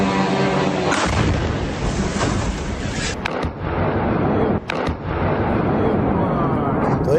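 Artillery cannon fire strikes military positions in the Russia-Ukraine war. Loud, sustained booming rolls almost without pause, with a few brief dips between the heavy blasts.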